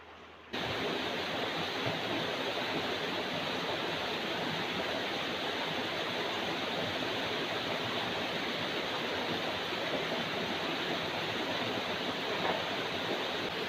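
River water flowing steadily at a countryside riverside used for washing clothes and dishes, a constant broadband rushing close by that fills the whole stretch without pause.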